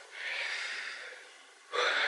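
A person pants heavily after exertion, two long breathy gasps, close to the microphone with a short pause between them.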